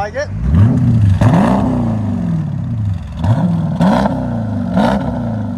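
A 2023 Dodge Durango 345 with a 5.7L HEMI V8 and Netami Turbo mufflers revs repeatedly, deep throaty exhaust rising and falling in loud, close blips with rumbling idle between.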